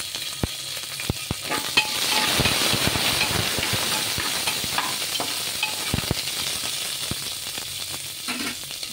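Green chilli and onion fry in mustard oil in a pan, a steady hissing sizzle with scraping stirs and occasional sharp knocks of the spatula, close and without speech.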